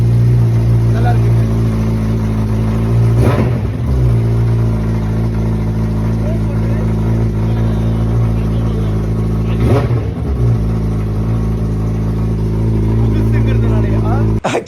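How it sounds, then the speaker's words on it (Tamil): Modified Suzuki Hayabusa motorcycle idling with a deep, steady exhaust drone, rising in two short revs near the start and middle, loud and close, with voices talking over it. "இப்போதான் எக்ஸாஸ்ட் நோட் எப்படி இருக்குன்னு சொல்லி கேட்க போறோம்"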